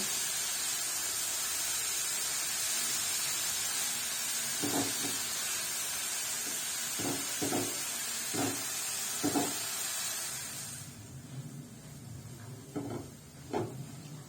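Grated beetroot and carrot stirred in a hot frying pan with salt, a steady hiss for the first ten seconds, then quieter with a series of soft, evenly spaced scraping knocks of the spatula against the pan.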